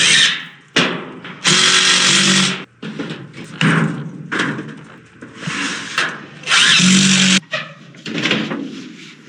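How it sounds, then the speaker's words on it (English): Power drill driving screws through sheet metal into wood underneath on a chicken coop built from scrap materials: repeated close, loud whirring bursts of a second or so, separated by short pauses. "Screwing the sheet metal to the wood underneath."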